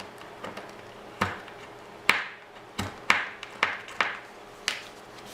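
A knife blade working against a fire tinder card, heard as about eight sharp, separate taps and short scrapes at irregular intervals. They are close and fairly quiet against a quiet background.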